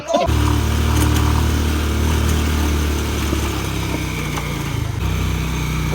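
A motorcycle engine climbs an uphill road toward a radar station, a loud close drone that holds steady and then drops in pitch midway as the load changes.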